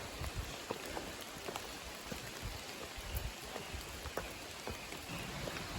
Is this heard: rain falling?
yes